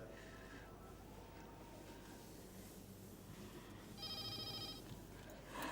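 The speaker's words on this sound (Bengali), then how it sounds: "দাঁড়াও, ফোন এসছে, একটু ধরি।" A telephone rings indoors in a quiet domestic scene, a short burst of electronic bell tones arriving late and faint against low room hiss.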